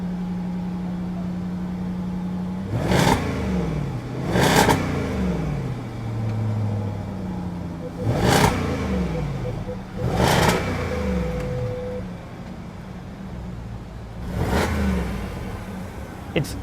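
A supercharged 2013 Jaguar XFR engine revs repeatedly, held at a 4,000 RPM limiter while still cold: five or six sharp, loud blips, each rising and then falling away, over a steady idle.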